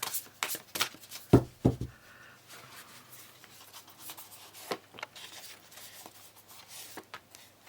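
Tarot cards are handled and shuffled, giving soft papery riffles and flicks, with a brief louder burst of card sounds near the start and then quieter rubbing and taps at close range.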